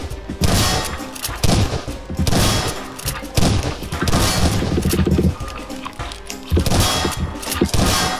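Rapid bursts of weapon fire from a grenade launcher, fired from an SMG in the Prop Hunt game, thump and crash in dense, repeated volleys with loud impacts, near and continuous over several seconds.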